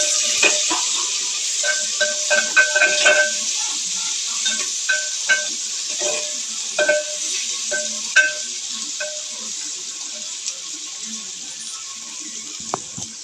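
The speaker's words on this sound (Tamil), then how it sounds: "பாருங்கள், வெங்காயம் போட்டுச்சு. இது ஒரு பக்கம் வெந்துட்டு வேகட்டும்." Onions frying in a pan for biryani, a bright continuous sizzle with irregular spatters and pops close by, fading slightly toward the end, with no voices.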